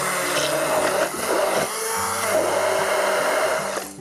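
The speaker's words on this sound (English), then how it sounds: "And I'm going to blend them to get them into a nice puree." A blender purees raspberries and tinned peaches in fruit juice: a loud, close motor whirr that shifts in pitch and load as the fruit churns, running steadily throughout.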